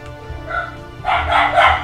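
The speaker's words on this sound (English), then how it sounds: "Sorry if you can hear the dog barking there." A dog barks several times in a quick burst, coming through a room behind the quiet sounds of a space strategy game session. The barks are moderately loud and grow stronger toward the end.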